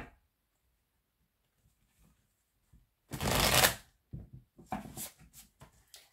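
A deck of Sacré-Cœur oracle cards is shuffled up close, one dense riffling burst followed by several short quieter flicks and taps.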